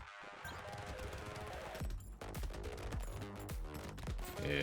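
Rapid SMG fire from the video game Brotato rattles in dense bursts over loud, continuous game music and effects.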